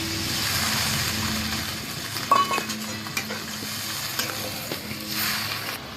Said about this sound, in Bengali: এবারে সামান্য জল দিয়ে দেবো। জল দিয়ে দিচ্ছি।